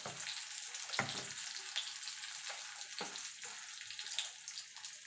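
Ground turmeric, asafoetida and chilli powder sizzling in hot oil, a soft steady crackle broken by a few sharp scraping stirs of the spatula.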